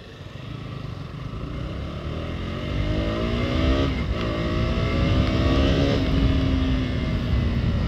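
A KTM RC200 motorcycle accelerates on a road, its engine note climbing through a gear with a brief dip at a shift, then pulling higher again, loud and close with wind rush.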